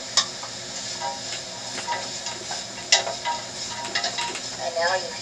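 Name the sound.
onions and celery sautéing for garlic soup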